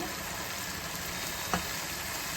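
Chicken pieces dropped into hot oil and masala for a milk-based drumstick chicken curry, giving a steady close sizzle with a brief stir-like bump partway through, no talking.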